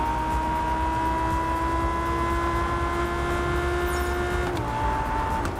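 A car engine in the racing game Test Drive Unlimited Solar Crown drones at a steady pitch, with a deep V8-like tone, then shifts gear briefly near the end and settles at a new steady note.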